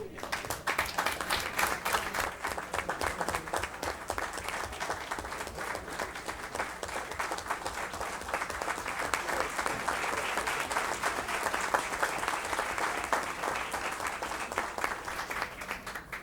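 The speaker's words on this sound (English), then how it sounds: "Another round of applause for all of our winners." Sustained applause from a school board meeting audience for Lafayette Parish School System Winter Arts Competition winners, dense, steady clapping from many hands that continues at an even level throughout.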